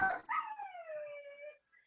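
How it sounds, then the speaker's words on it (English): A puppy whimpers, then lets out a rising, drawn-out howl that slowly falls away, a single thin cry heard fairly close and alone. "What is wrong with that dog?"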